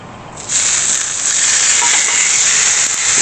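Pork chops hit a hot, oiled Blackstone griddle with a sudden loud sizzle that stays steady and bright throughout, with no talking.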